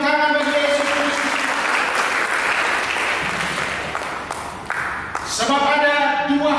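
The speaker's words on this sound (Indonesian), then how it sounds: "Mari kita berikan tepuk tangan bagi Yesus Kristus." A church congregation claps together in sustained, dense applause lasting several seconds, with voices speaking at the start and end.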